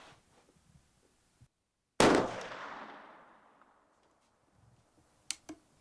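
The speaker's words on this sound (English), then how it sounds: "You may shoot when you're ready." A single loud gunshot rings out on an outdoor shooting range, with a sharp crack followed by a long rolling echo that fades over several seconds, then a couple of faint distant pops.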